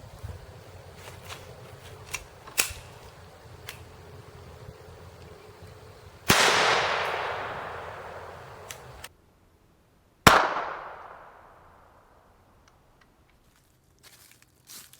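Two loud .22 Long Rifle gunshots, fired at firehose body armor, crack out several seconds apart, each leaving a long fading echo, after scattered footsteps and small handling noises outdoors.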